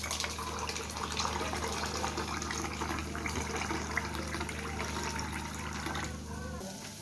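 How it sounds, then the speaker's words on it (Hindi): Filtered RO water pours into a kitchen spice grinder jar as a steady close gush with a low hum under it, cutting off near the end, no voices. "देखिए हम मसाले वाले जार में आरओ का पानी निकाल रहे हैं।"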